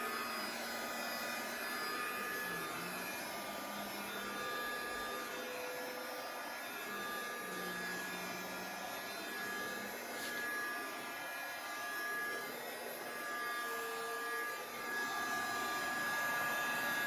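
Heat gun blowing steadily over epoxy on a distressed flag tumbler, a continuous faint whirring hiss that holds unbroken throughout with slight wavering.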